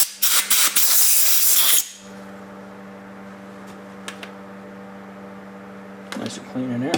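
Compressed air blasting through a lawn mower part in a repair shop: a loud, close, roaring hiss for nearly two seconds, then a steady hum with small clicks and a brief rustle at the end.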